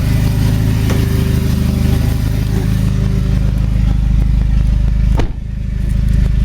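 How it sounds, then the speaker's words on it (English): Mitsubishi Mirage coupe fitted with an Evo IV engine swap idles steadily up close, a loud continuous low engine rumble with light clatter; a brief dip near the end, then the idle resumes. "So it holds its idle pretty good, all things considered."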